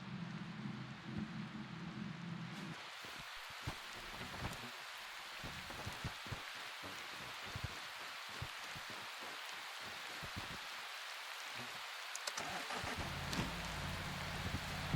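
Rain with hail thumping down in the survival game Prologue: Go Wayback, a steady wash of drops broken by irregular dull knocks and patters, heard from indoors with the noise easing briefly before swelling again.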